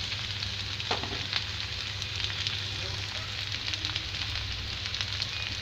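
Mixed vegetables frying in a pan, a steady, even sizzle with faint crackles and occasional stirring scrapes, continuous and close.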